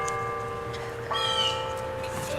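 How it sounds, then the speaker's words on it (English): Church bells ring out in a rural summer setting, a sustained metallic peal with a fresh strike partway through, steady and moderately near. "And of course, we have the church bells,"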